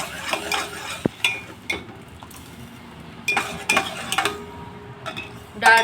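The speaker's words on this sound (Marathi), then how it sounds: "त्याच्यात आपण शिजवलेली तुरीची डाळ टाकून घेऊया" Cooked toor dal being stirred into a tempering of turmeric and asafoetida in a pot, with a metal spoon scraping and clinking against the sides in irregular bursts, close up and alone.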